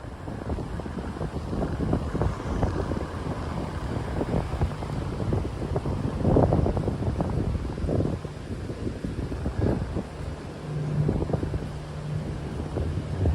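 Strong gusts of wind, around 25 mph, buffet the microphone on a Miami street, giving a loud, continuous roar that swells and eases with each gust.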